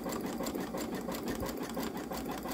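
A Babylock Solaris Vision embroidery machine stitches out a satin-stitch hummingbird design, its steady rapid needle clatter running continuously and fairly loud, close by, with no voices.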